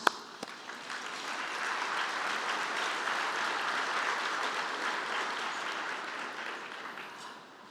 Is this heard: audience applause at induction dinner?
yes